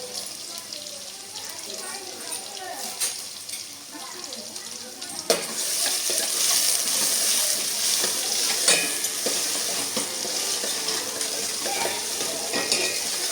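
Onion sizzling steadily in hot oil in a pan for dried fish rasam, with stirring scrapes and utensil clinks over the continuous frying hiss, and a voice talking at times.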